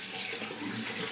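Warm water running steadily from a tap, used to dampen the skin of the head before shaving; a continuous, close, even rush with no talking.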